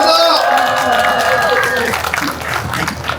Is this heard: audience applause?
yes